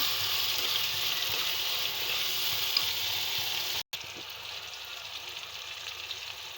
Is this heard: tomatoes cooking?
yes